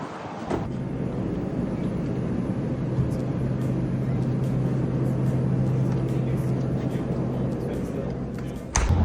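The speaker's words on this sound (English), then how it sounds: "Dude, that wind is crazy." Strong wind buffets the microphone in a constant low, rushing rumble that hardly lets up, with a person speaking now and then beneath it.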